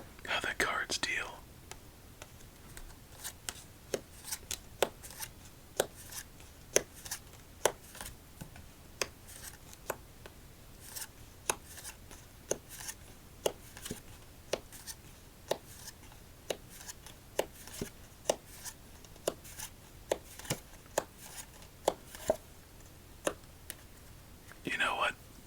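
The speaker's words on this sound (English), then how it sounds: "we'll see how the cards deal" Playing cards from a Purple Peacock deck are dealt for solitaire, a steady run of soft, close flicks and taps with a faint whispering voice at the start and end.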